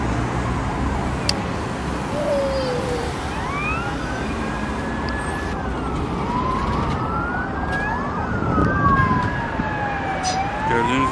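Several emergency sirens wail and overlap continuously, rising and falling over steady traffic noise, as ambulances are dispatched to a fire at Taksim First Aid Hospital in Istanbul; loud and sustained throughout.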